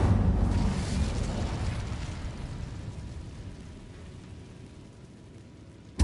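A fire spell cast in Hogwarts Legacy bursts out as a loud, rumbling whoosh of flame that quickly swells and then trails off into a fading roar, heard on its own with no voices.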